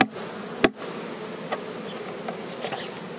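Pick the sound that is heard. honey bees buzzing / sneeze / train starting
honey bees buzzing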